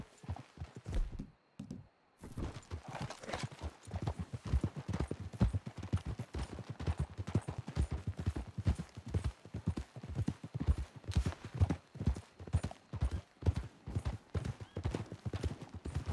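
Horse hooves clip-clop in a steady galloping rhythm from Red Dead Redemption 2, loud and close throughout, with a brief pause near the start before the beat resumes.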